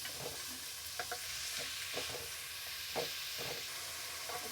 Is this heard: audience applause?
no